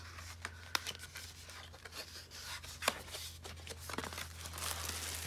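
Cardboard packaging from an ALLDOCUBE iWork20 10.1-inch 2-in-1 laptop tablet is handled quietly, giving faint, sparse rubs, crinkles and small sharp scrapes close by.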